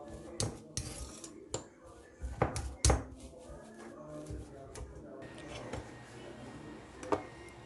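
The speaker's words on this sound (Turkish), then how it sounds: "1 adet büyük boy patatesi daha önceden haşladım. Ve çatalla iyice eziyorum." A fork mashes a large boiled potato in a bowl, giving irregular metallic clinks and taps against the dish that are loudest early on, then softer scraping, with no voices.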